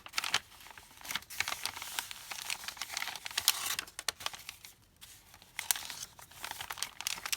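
Paper pieces from a craft kit are folded and pressed down, making close, quiet crinkles and rustles in short irregular bursts with small pauses between them, and nobody speaks.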